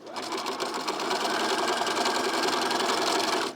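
A sewing machine stitches steadily through four layers of T-shirt fabric, a continuous close whirring run lasting a few seconds before stopping abruptly.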